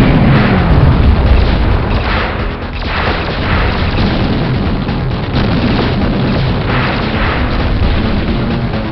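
A surveillance tower explodes in the video game Hellbender, a dense, sustained rumble of booming blasts and crashing debris that stays loud throughout, with no speech.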